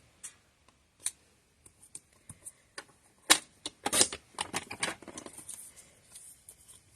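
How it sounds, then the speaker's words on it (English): Cardstock being trimmed by half an inch along its long edge for a folded card: sharp isolated clicks, then a denser run of quick slicing and tapping sounds, close and fairly clear. "on the long end, I'm just going to trim off a 1/2 inch."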